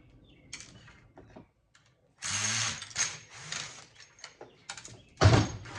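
Screws being backed out of a bracket on a Yamaha AV receiver during scrapping give short metallic scrapes and ratcheting clicks in uneven bursts, close up, with a sharp clunk near the end.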